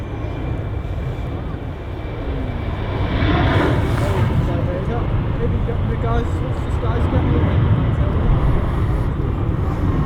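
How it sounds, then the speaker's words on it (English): An Air Portugal Embraer 195 jet takes off down runway 05L at Manchester Airport, its engines a loud, sustained, rising roar heard from nearby, swelling midway and holding, with someone talking over it. "Air Portugal Embraer 195 blasting off down the runway."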